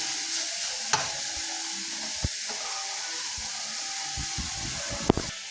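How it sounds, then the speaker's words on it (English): Ground turkey sizzles and browns in a pot for turkey chili, a steady close frying hiss with a few sharp clicks and scrapes from stirring, no talking. "while the turkey is being brown"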